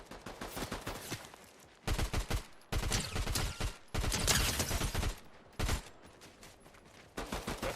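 Submachine gun fire in a video game comes in several sharp, rapid bursts separated by short gaps, loud and close, with no talk over it.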